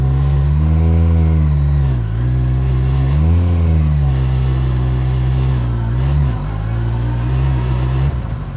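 A Campagna T-Rex 14R three-wheeler's engine revs loud and close while driving, climbing in pitch through first gear, dipping as it shifts and rising again in a steady, sustained drone.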